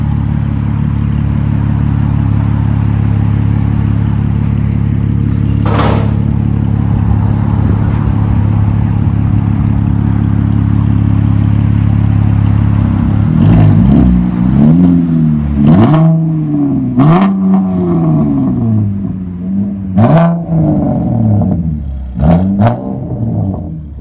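A Chevy Camaro 3.6L V6 with its muffler and resonator removed idles loudly and steadily, then revs repeatedly in sharp rising and falling bursts, with a few crackles between revs, close by and without talk.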